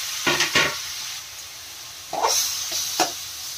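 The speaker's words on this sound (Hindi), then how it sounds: "टमाटर हम यहीं पर डालेंगे" Chopped tomatoes hit a hot pan of frying chickpeas in several separate bursts of loud crackling sizzle, with a quieter hiss between the additions.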